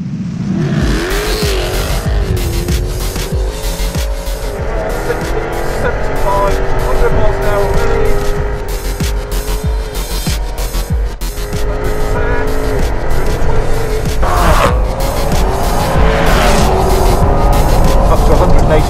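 A Jaguar car accelerating hard during a high-speed parachute test for a 1000 mph land speed record attempt, a loud sustained engine roar rising through the gears with wind rush and a brief tire squeal.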